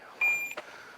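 A single sharp electronic shot-timer beep sounds near the start of a pistol drill on a shooting range, followed immediately by a short percussive report from the shot; otherwise fairly quiet.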